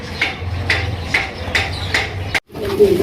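Soft, low cooing from a pair of Gopalganj pigeons from Bangladesh repeats in a steady rhythm, close by, with brief higher chirps between the calls.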